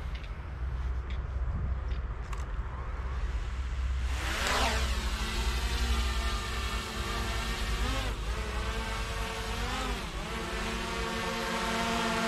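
A DJI Mini 3 Pro drone fitted with Master Airscrew propellers hums steadily with a dense, whining buzz, its pitch swelling and dipping as the motors change speed, fairly close and continuous with no talk.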